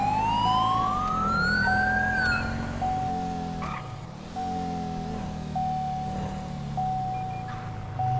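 A fire truck siren wails in Grand Theft Auto V while on police patrol in the game. It holds loud and steady for the whole stretch, rising and falling over a low, rumbling background.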